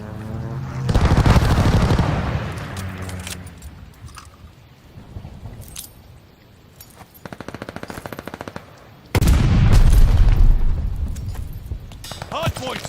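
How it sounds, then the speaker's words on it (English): Strafing-run gunfire in a multiplayer video game hardpoint match: heavy rolling bursts of rapid fire, loud at the start and again near the end, with a game announcer voice between them. "Enemy's called a strafing run."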